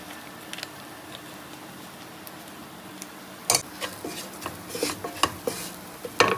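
Chili powder and garam masala are stirred into a sweet ripe mango pickle. After a quiet start, a spoon scrapes and clinks against the vessel in a series of close, uneven strokes.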